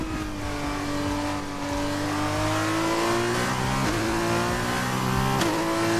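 A Formula 2 race car engine screams at full throttle in a racing game, a loud continuous high-pitched whine climbing steadily through the gears with brief dips at each upshift, alone with no talk.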